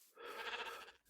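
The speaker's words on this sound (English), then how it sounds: "I have caught another sheep" A sheep in the video game TerraFirmaCraft gives a single wavering bleat lasting about a second, clear and alone.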